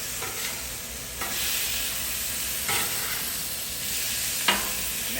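New York strip steaks sizzle steadily on a Blackstone griddle, a continuous close frying hiss broken by a few brief louder bursts as the meat is shifted and flipped; no talking.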